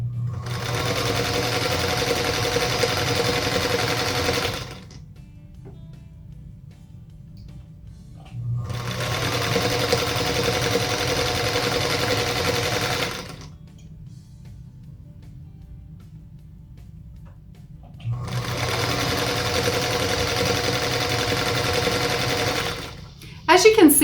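A sewing machine stitches quilt block pieces for a Union Star block with a scant quarter-inch seam, running in three steady bursts of several seconds each, separated by quiet pauses.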